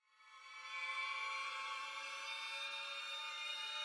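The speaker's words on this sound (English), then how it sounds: "And the cluster is like this." Dissonant string cluster from an orchestral Avengers Doomsday score re-creation, swelling in over half a second and then holding as a dense, steady, moderately quiet sustained chord with no talking.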